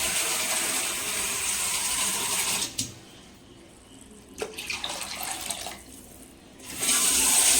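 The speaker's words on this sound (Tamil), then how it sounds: "இப்போ நம்ம வந்து தண்ணி ரசத்துக்கு தேவையான அளவுக்கு தண்ணி வந்து சேர்த்துக்கலாம்" Water runs steadily into a pot of wedding-style rasam, a continuous pouring hiss that breaks off twice midway, resumes briefly, then returns strongly at the end, heard alone without talk.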